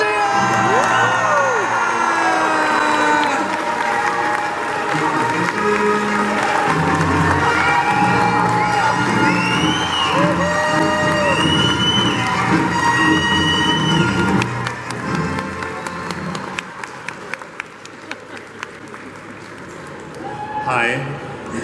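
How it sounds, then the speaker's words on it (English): A Brussels Comic Con 2020 crowd greets actor Ian McDiarmid with loud, sustained cheering, whoops and shouts, whistles rising above the roar before the noise drops and scattered claps and voices linger. "Start your round of applause now!"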